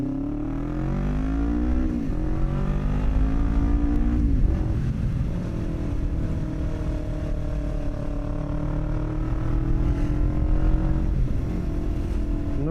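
Motorbike ridden along a road, a loud, continuous engine drone close by with steady pitch changes as the revs rise and fall, wind noise underneath, no talking.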